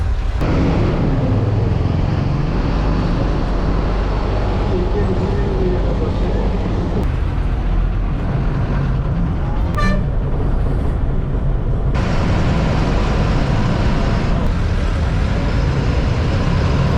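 Inside city bus 91R, on the run from Kilambakkam to Velachery after Irumbuliyur and approaching Tambaram bus stand, a constant loud engine drone and road rumble continue throughout, with someone talking over it and a brief horn toot partway through.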